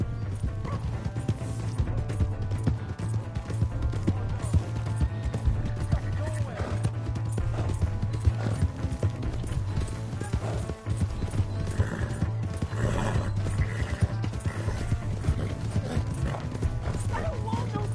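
Horse hooves clop steadily through a busy Red Dead Redemption 2 game scene, with a neigh or whinny, continuous game music and shouting voices layered over the hoofbeats.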